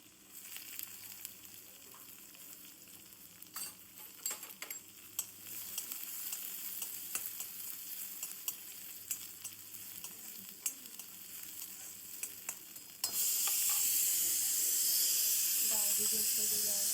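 Onion frying in a pan with dill greens, spinach, lentils, chilli and garlic, giving a steady low sizzle with small crackles that swells into a loud, bright hiss near the end.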